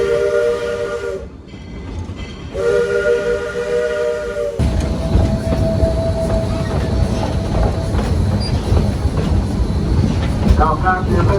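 Georgetown Loop Railroad train number 374 in Colorado, USA: two long whistle blasts, then a loud, steady rumble and clatter of the cars rolling along the rails, heard from up close.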